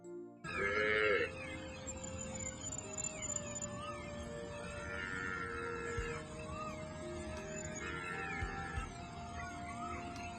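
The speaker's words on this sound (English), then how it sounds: "Can you say moo like the cow?" A farm cow gives drawn-out tonal moos, three sustained calls spread across the stretch, faint and moderately distant over a steady low background.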